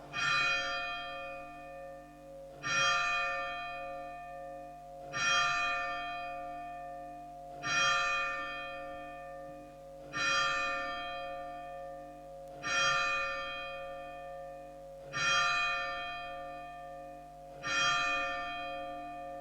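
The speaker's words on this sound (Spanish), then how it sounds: "vamos a esperar que suenen las campanas" A church bell tolls eight times at a slow, steady pace, each strike ringing out loudly with a long, humming decay between strokes.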